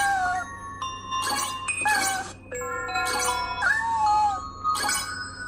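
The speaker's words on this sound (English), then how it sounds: "We've even added different kitten voices." Synthesized kitten meows from a voice-changing software demo, a rapid series of about eight high, tonal mews with varied pitch glides, some bell-like chimes mixed in, loud and close with no speech.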